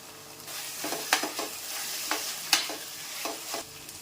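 Onions, tomato and curry leaves fry in a pan, giving a soft sizzle under repeated scraping strokes of a spoon that clack faintly, close by and with no voices.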